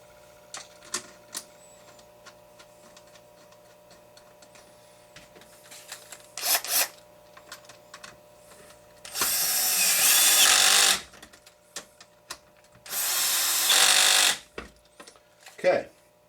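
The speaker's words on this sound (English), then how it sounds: "Very simply going to slide in and we'll tighten them up." A power driver tightens screws into an HPI Baja SS RC car chassis in two loud, close whirring bursts of a few seconds each, set among lighter clicks and handling noises of parts.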